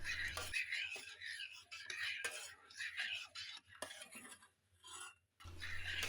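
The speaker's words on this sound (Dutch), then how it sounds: "Roer de kokosmelk door." A spoon stirs warm coconut milk in a pot, producing soft continuous scraping and swishing with brief pauses, fairly faint and close by, with no voices.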